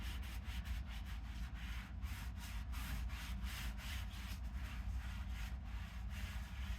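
A microfiber cloth rubs over the matte black painted back of a vintage Jensen CS 315 speaker cabinet, giving soft, rhythmic swishing strokes, close and quiet with no voices.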